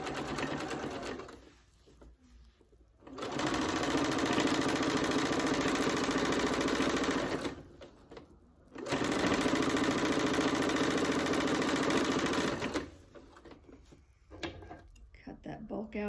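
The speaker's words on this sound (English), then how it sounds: "So I'm going to take it and I'm going to sew down" A sewing machine stitches down a fabric hot pad made from scraps, running in two long steady bursts separated by short pauses, close and loud, with someone talking in the gaps.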